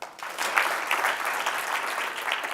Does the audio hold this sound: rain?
no